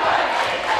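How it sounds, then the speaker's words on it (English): Loud, dense high school basketball crowd roaring and cheering in a packed gym during a one-point boys' game, a continuous wash of voices with no break. "And listen to this crowd."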